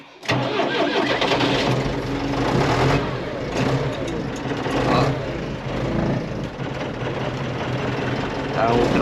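An old farm engine cranks, catches and settles into a loud, uneven running chug with throttle blips. Voices speak over it throughout.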